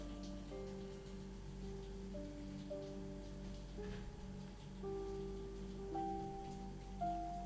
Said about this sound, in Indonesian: kalian nikmati suara hujan dulu